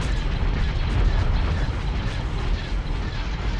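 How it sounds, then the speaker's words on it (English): Proton or concussion missiles explode in a Star Wars space battle game, dense rumbling blasts and bursts rolling continuously at high volume without a break. "There go the proton missiles, or are they concussion missiles?"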